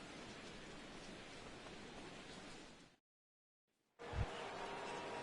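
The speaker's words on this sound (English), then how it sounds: "Rain continues to fall here in the 6th." Rain falls during a baseball game in MLB The Show 17, a steady hiss of moderate loudness that cuts out to silence for about a second before resuming.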